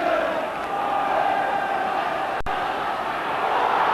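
Football crowd noise from Oldham Athletic fans cheering during a 1989/90 Littlewoods Cup match, a steady dense roar from the stands with no clear breaks, broken only by a brief sharp click near the middle.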